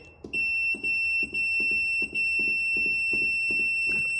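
An ultrasonic cleaner beeps in a rapid, evenly spaced series of short electronic tones over a faint background hum.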